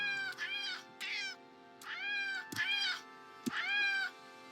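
A cat in a desert video game meows repeatedly, five or six drawn-out, clear meows in an irregular rhythm, with a couple of sharp clicks between them and no talking.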